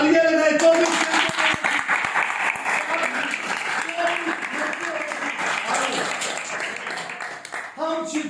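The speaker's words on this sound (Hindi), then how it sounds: "सबके लिए तालियां लगाए" A church congregation at a sermon breaks into loud, sustained applause, a crowd clapping continuously for several seconds while the preacher's voice carries over it at the start and end.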